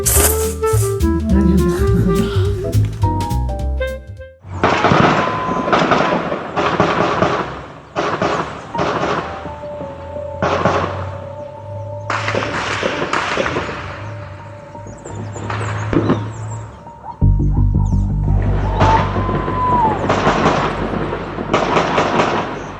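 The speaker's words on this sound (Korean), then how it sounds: "뭐 아침부터 총소리가 납니다." Gunshots ring out repeatedly one morning in Colombia, a long run of sharp, booming reports fired in quick succession and sometimes in rapid strings, echoing at moderate distance, with a brief musical passage at the start.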